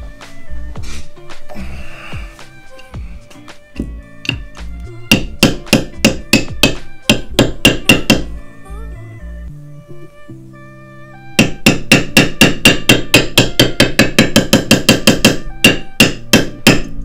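Metal tool hammering on a Xiaomi M365 Pro electric scooter motor during a bearing repair, loud sharp ringing strikes in bursts, first scattered, then fast regular runs of blows, with no voices.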